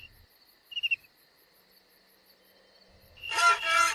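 A cricket chirps faintly in a short repeating pulse, with a brief louder burst near the start and a rush of broadband noise swelling at the end.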